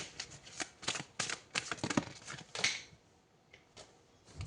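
Tarot cards are shuffled and drawn by hand in a series of close, crisp riffling bursts with short pauses between them, then a softer slide as a card is pulled.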